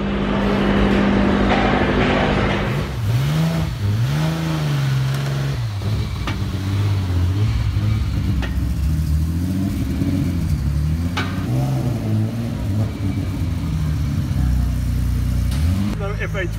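A dedicated circuit race car, a Formula 1 car in a roll race against a street car, accelerates loudly through rising and falling engine sweeps with gear changes, close and continuous, while people talk over it.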